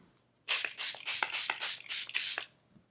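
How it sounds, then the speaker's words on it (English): Seven quick, close pumps of a face mist spray in steady rhythm, each a short breathy hiss, with no talking. "I'm gonna spray my face before I blend it in."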